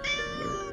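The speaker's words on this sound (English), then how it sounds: "Kitty." A cartoon cat lets out one drawn-out, tonal meow, close and clear with no talking over it.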